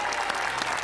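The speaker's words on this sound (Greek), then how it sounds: "Φανταστικός ο Γιάννης, δώστε ένα δυνατό χειροκρότημα." Audience applause at a game show, a dense continuous burst of clapping close and loud throughout the short moment, with faint voices mixed in.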